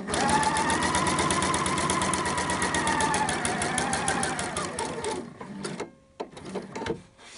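A sewing machine stitches a shirt collar in a long, loud, steady run of rapid needle strokes, then slows and stops in short bursts near the end.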